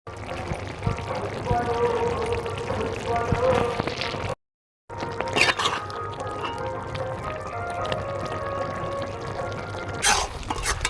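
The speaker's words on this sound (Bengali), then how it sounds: "এবার দিয়ে দেবো জল" Water poured into a cooking pot of kochur loti (taro stolons) with lote shutki (dried Bombay duck), a steady pouring wash near and loud, with talk and kitchen clatter around it and a brief silent gap midway.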